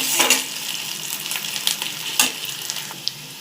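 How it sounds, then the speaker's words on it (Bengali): Onions frying in hot oil in a pan for a potato curry, a close, steady sizzle with occasional sharp spatula clicks and scrapes as they are stirred, no voices. "তো দেখো আমি এখানে পেঁয়াজটা ভালো করে লাল করে ভেজে নেব"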